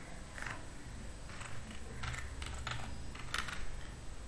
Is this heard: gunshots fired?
no